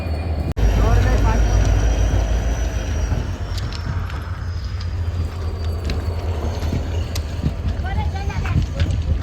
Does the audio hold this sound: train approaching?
yes